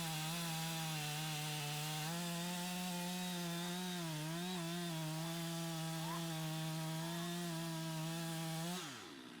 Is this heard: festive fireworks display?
no